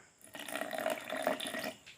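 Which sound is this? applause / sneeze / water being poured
water being poured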